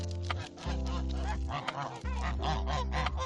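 Geese honking loudly and continuously, several birds calling over one another at close range with harsh, nasal cries.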